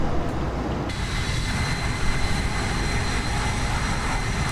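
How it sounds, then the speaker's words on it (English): Airbus A319 CFM jet engines in the X-Plane 11 flight simulator give a steady, droning hum with a thin high whine that holds level throughout. "Also, these sound a lot better than Boeing engines."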